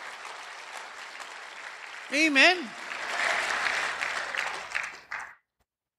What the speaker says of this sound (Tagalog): Ngayon lang pumalakpak mga tao rito.